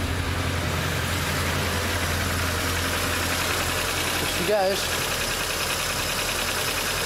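A 2006 MINI engine idles just after its cylinder head was reinstalled, giving a steady, close, even running note throughout, with a voice speaking briefly over it.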